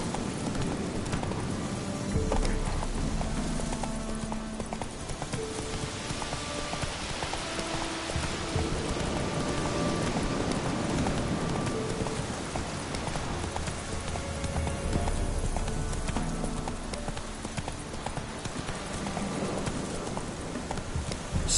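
Horse hooves galloping in a PS4 video game, a continuous rapid clip-clop rhythm at moderate loudness under game ambience and background music for the whole stretch.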